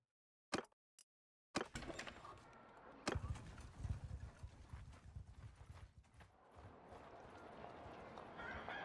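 Horse hooves clip-clop in a mounted tournament in Mount & Blade II: Bannerlord with a Feudal Japan mod; after a couple of sharp knocks, a steady, close run of hoofbeats continues over busy background noise.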